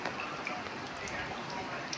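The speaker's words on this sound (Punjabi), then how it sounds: "ਮੀਂਹ ਹਟਣ ਦਾ ਨਾਂ ਨਹੀਂ ਲੈਂਦਾ ਹੈਗਾ 3 ਵਜੇ ਦਾ ਲਗਾਤਾਰ ਪੈ ਰਿਹਾ" Continuous steady rain falling outdoors on a gloomy day, a dense close hiss of drops on surfaces with scattered brighter patters, running throughout with no pause.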